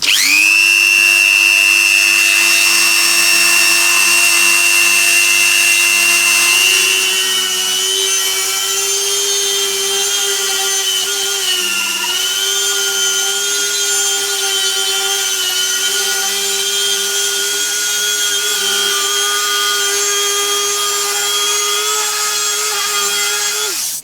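A rotary tool with a dark green coarse Cratex abrasive point works a cast brass machinist hammer head, giving a steady high-pitched motor whine with a grinding rub. Pitch dips slightly as the point bears on the metal.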